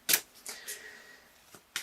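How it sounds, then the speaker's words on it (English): A deck of tarot cards is shuffled up close, giving a few short, soft riffling bursts separated by quiet gaps. "I'm just looking at these cards over here as I shuffle."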